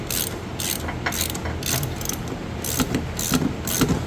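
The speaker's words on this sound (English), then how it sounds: "we're going to go ahead and tighten this until that bushing pops the rest of the way out" A hand ratchet turns a press tool to force a camber bushing out of a Mopar car, giving a steady run of sharp, close clicking strokes in even bursts, about eight of them.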